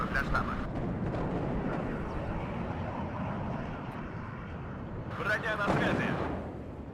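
Artillery fire in the Warno video game, a low rumbling bed with a louder crashing burst near the end, heard amid other battle noise.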